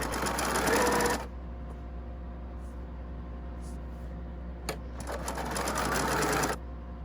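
A sewing machine runs in two steady bursts while chain piecing the corners of wild churn dash quilt blocks, the stitching a close, even mechanical whir with a quieter pause between runs.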